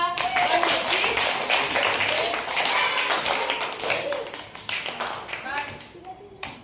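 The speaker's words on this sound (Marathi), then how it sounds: "दर्शनचे टाळ्या वाजवा" Schoolchildren in a classroom clap together for a classmate, a lively burst of many small hands slapping in a brisk, uneven rhythm, fairly close and loud, tapering off near the end.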